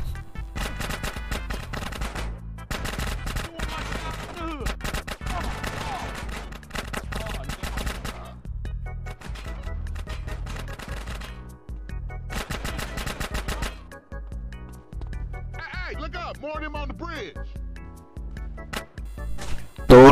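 Gunfire in GTA San Andreas during a close-range street fight with looting: rapid bursts of loud automatic shots in dense clusters, broken by short pauses and mixed with game effects, continuing through most of the stretch.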